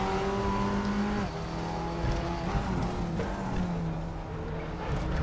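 An Audi TT Cup 2015 race car engine in the RaceRoom racing game at Oschersleben drones continuously, its pitch dipping and then climbing through gear changes as the car powers out of a corner.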